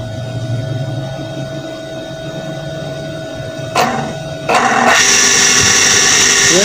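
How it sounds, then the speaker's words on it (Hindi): Electric water pump motor running after a connection repair, a steady mechanical hum with whining tones that jumps louder and higher partway through, close and continuous. "ये देखें दोस्तों, मोटर हमारी चल चुकी है।"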